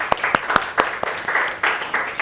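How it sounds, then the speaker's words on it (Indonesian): Scattered applause from a small classroom group after a teacher's prompt, a few distinct claps over a steady broadband wash of clapping lasting about two seconds. "Oke, tepuk tangan."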